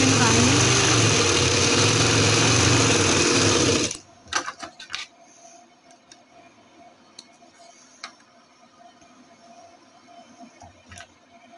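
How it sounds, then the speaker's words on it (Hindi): Electric sewing machine stitching along the hem edge of black summer trousers, a loud, fast, steady whirring hum for about four seconds, then stopping and leaving only scattered faint clicks and handling taps. "ये सिलाई हम बिल्कुल किनारे पे लगाएंगे।"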